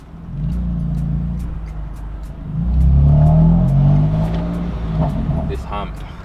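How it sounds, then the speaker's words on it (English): A BMW M4 with a straight-pipe exhaust accelerates on the road, its engine rising to a loud revving roar midway and easing back while crackles pop, with someone talking over it from inside. "currently trying to find somewhere good to do a bit to show you guys the exhaust"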